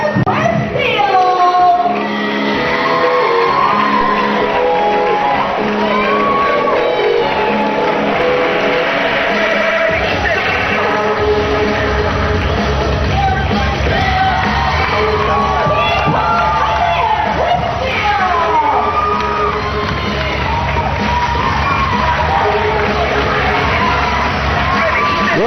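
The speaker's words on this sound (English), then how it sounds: "looks like the crowd really enjoys seeing King Kong Bundy here." A packed wrestling crowd cheers and yells for King Kong Bundy, a dense, continuous wall of voices with shouts and whoops rising out of it and a commentator talking over the noise.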